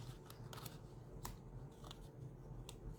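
Scissors snip through cardstock for a Stampin' Up card, giving a few crisp, quiet cutting snips spaced irregularly over a steady low background hum, with no speech.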